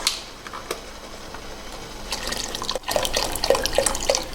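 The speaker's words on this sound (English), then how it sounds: "So after we finish pouring all the chicken stock in" Chicken stock pours into a soup pot for a Vietnamese asparagus crab soup, first as scattered drips and splashes, then as a fuller, louder liquid stream near the end.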